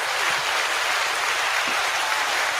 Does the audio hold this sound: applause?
yes